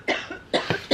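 A person with a lingering cough lets out a quick series of close, sharp coughs, three main bursts with smaller catches between them.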